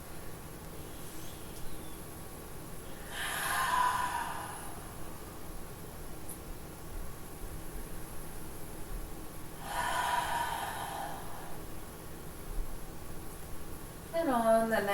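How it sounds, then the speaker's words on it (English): Slow deep breathing during a gentle yin yang yoga session: two long, airy breaths about six seconds apart, each lasting over a second, with a third beginning at the end, over a steady faint background hiss. "breathing nice and deep"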